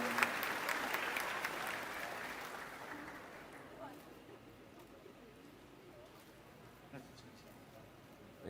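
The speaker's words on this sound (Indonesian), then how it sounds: "Tepuk tangan dulu dong teman-teman." Audience at an education forum in Jogja applauds Indonesia Mengajar members, a burst of clapping that fades away into quiet room noise with faint voices.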